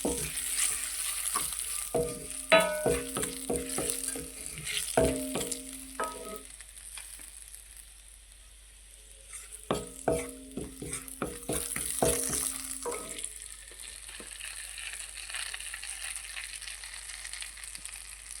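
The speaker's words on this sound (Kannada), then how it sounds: "ಎರಡು ಸ್ಪೂನಷ್ಟು ಅಚ್ಚ ಖಾರದ ಪುಡಿ ಹಾಕ್ತೀನಿ. ಚೆನ್ನಾಗಿ ಫ್ರೈ ಆಗಬೇಕು." Chilli powder frying in a pan for a restaurant-style capsicum curry, with a soft sizzle under repeated rhythmic clinks and scrapes of stirring in two bursts separated by a quieter stretch.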